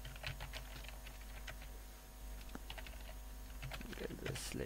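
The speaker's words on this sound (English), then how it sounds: "let me just type anything here" Soft, quick keystrokes tap on a computer keyboard in irregular bursts, faint and close against a steady low background hum.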